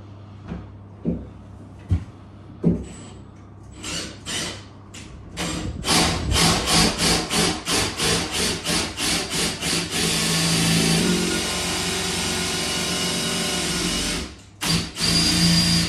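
A power drill with a sharp-toothed hole cutter bores through a bath to make tap holes, with timber set underneath. Taps and knocks come first, then a close, loud grinding cut in pulsing strokes that settles into a steady drone before stopping.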